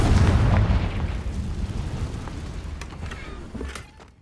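Confringo fire spell blasting in the Hogwarts Legacy video game: a loud, deep booming burst at the start that rumbles on and slowly fades over several seconds.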